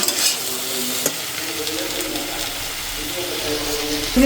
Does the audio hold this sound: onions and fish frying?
yes